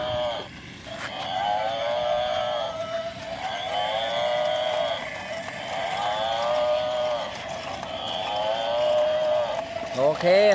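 A toy buffalo repeats a mechanical lowing call over and over, several long moo-like tones in a steady cycle, close by, ending with a brief clatter.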